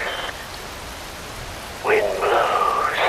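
Steady rain pours through a scene in the video game Metal Gear Rising: Revengeance, a constant even hiss that holds throughout, with a voice-like tonal sound rising over it in the second half.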